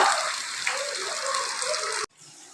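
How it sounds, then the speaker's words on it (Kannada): Water gushes steadily into a bowl of gram flour batter seasoned with salt, chili powder, cumin and asafoetida as it is mixed, then cuts off abruptly near the end, leaving a quieter background. "ಇವಾಗ ನೀರು ಹಾಕಿ ಕಲಿಸ್ತಾ ಇದ್ದೇನೆ"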